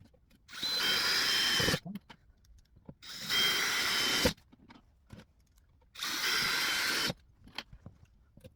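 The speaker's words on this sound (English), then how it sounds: "Pre-drill again with that small drill bit." A power drill pre-drills holes in a beginner's wooden toolbox, three separate bursts of whining drilling, each about a second long, with quiet clicks and handling between them.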